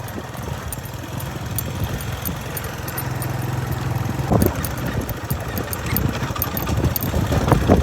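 A motorcycle engine runs steadily on a farm road leading toward a farmhouse, a continuous mid-pitched drone with a low rumble that grows slightly louder toward the end.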